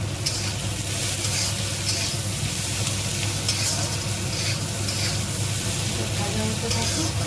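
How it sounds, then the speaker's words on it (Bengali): Spices with turmeric fry in a pan, a steady close sizzle and crackle that runs throughout with faint stirring. "এটা একটু ভাজা হোক"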